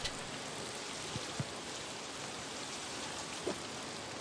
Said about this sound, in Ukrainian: за вікном дощ.